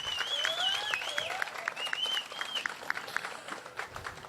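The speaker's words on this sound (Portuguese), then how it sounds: "pois me quer senhor Lando Meriwether também merece aplauso" A crowd at a project launch event applauds for Lando Meriwether, dense sustained clapping throughout while a thin, wavering whistle-like tone drifts above it early on.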